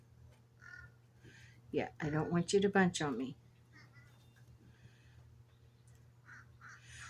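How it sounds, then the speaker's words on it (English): A loud bird call rings out in a short run of harsh, repeated notes, with a person talking quietly nearby before and after. "I literally just started calling it the uh-oh bird"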